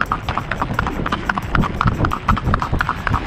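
A horse walks in a long-stride gait, its hooves clip-clopping in a quick, even rhythm on hard ground. The hoofbeats are close and clear, and faint background noise runs beneath them.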